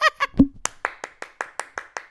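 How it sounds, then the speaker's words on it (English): A single pair of hands claps in a steady, evenly spaced rhythm about eight times, close and clear, following a brief moment of a voice speaking at the start. "A round of applause for you guys."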